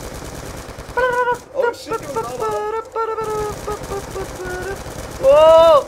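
Rapid automatic gunfire from Black Ops 2 Zombies on the Nuketown map crackles in bursts, with excited players talking and shouting over it.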